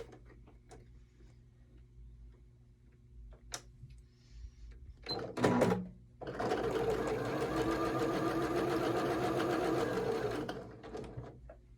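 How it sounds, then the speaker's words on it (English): A sewing machine stitches pieced quilt block fabric together: a few light clicks and a short burst, then a steady, rapid mechanical hum of stitching for several seconds before it stops. "We're going to go ahead and sew these together."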